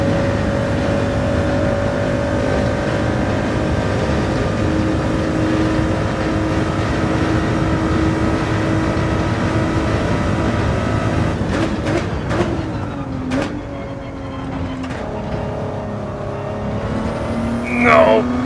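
A race car engine in Gran Turismo 7 drones loud and steady at high revs, then the pitch drops and shifts through a few gear changes near the end. A voice talks faintly under it.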